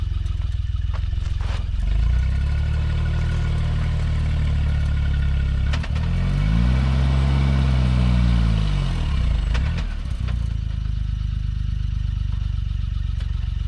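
A Suzuki Jimny engine runs close by with a deep, rough drone, surging to full throttle for a few seconds before dropping back to a steady, clattery idle.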